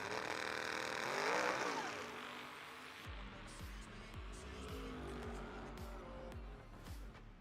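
Drag race cars, a Chevy Vega and a Camaro, launch side by side with a surging engine roar and tire noise. After that, a rapid pulsing rhythm like an engine bouncing off the limiter takes over, and it sounds faint and distant.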